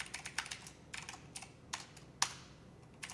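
Computer keyboard typed in short irregular bursts with separated keystroke clusters during a live C++ coding session, crisp and close with no talking.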